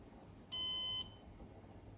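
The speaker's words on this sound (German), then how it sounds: "Nach ca. 60 Sekunden ist ein Piepton zu hören." A Synology DS923+ NAS gives a single short, clear electronic beep of about half a second once booting finishes, alone against faint background noise.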